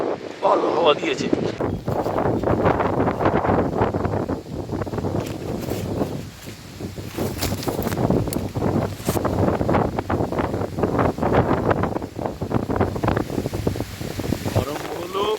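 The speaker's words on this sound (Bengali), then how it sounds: "আরম্ভ হলো কোপাই নদীর পাড়ে প্রবল ঝড় বৃষ্টি।" A heavy storm on the Kopai riverbank roars with strong gusts battering the microphone, a loud, churning rush of wind and rain that dips briefly before surging again.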